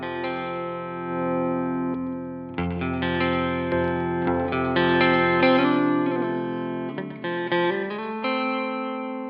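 Electric guitar played through cascaded boost pedals at low gain, ringing chords and single notes with a glassy, lightly driven tone and a touch of reverb, sustained and fairly loud with no talking.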